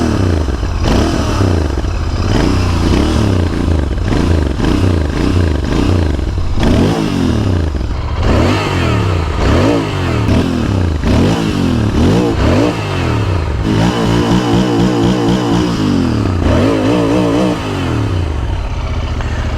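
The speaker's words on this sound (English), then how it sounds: "now let me show you how is the exhaust. This is how it sounds at the idle." Royal Enfield Interceptor 650 BS6 twin-cylinder motorcycle with twin exhaust, close and loud, idling with a steady thump and then blipped through repeated sharp revs that rise and fall, no talking.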